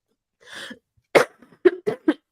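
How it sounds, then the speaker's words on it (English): A person coughs in a quiet room: one soft breathy hack, then a run of four sharp, close coughs in quick succession. "I got the cough."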